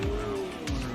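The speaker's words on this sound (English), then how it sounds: "Somebody on a vehicle." A vehicle in the Fortnite video game revs and drives nearby in a brief, loud burst, with a rising engine whine and a skidding sweep.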